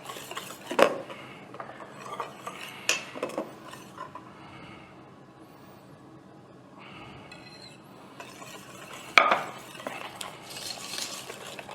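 A whisk stirs melted butter and chocolate into an egg mixture in a bowl, giving soft rubbing and scraping with occasional sharp clinks against the side, separated by quieter stretches.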